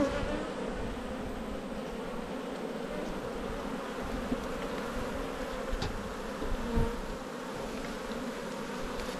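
Honeybees buzzing at a hive during a hive check, a continuous even drone of many bees close by with a few faint knocks and no talking.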